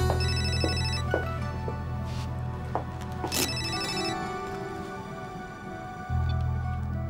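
A telephone rings repeatedly during a wedding photo session indoors, its bell-like trills sounding in regular bursts over a low steady hum, fairly loud and close, with no one talking.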